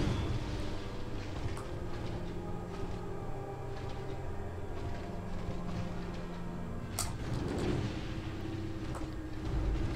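Fire bombs bursting in Dark Souls during a boss fight with young Sif, a dense, continuous rumble of blasts and crackle with a sharper burst near the middle, steady and loud throughout.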